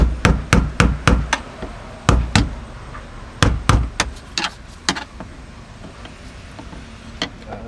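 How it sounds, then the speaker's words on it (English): Repeated sharp metal hammer strikes, loosening a fuel pump counterclockwise on a BMW E36, some in quick pairs and bursts, then sparser blows with pauses, loud and close. "So now that that's off, you can hammer away."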